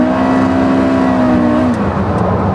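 A Porsche Carrera GT's engine screams at high revs on a banked race track, then the pitch falls away sharply as the driver downshifts to fourth gear, loud and close throughout.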